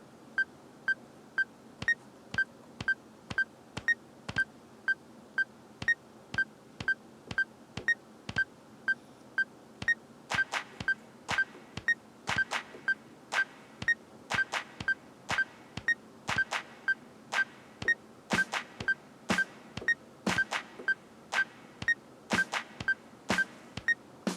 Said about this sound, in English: you hear the metronome start